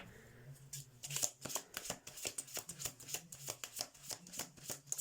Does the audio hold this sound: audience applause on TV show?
no